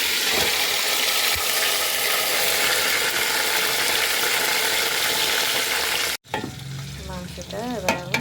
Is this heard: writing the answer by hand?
no